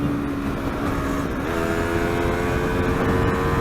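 A Yamaha R3 motorcycle at high revs on a friendly race, a loud, steady, high-pitched engine whine held for a few seconds, close and alone.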